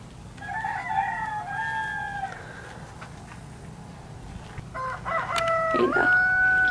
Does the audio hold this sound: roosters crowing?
yes